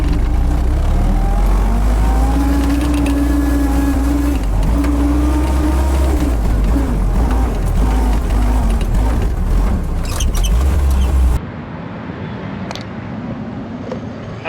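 A 1942 Willys Jeep labours through soft sand in four-wheel drive, its engine droning loudly with rising and falling revs, then cutting off abruptly near the end, leaving quieter background noise.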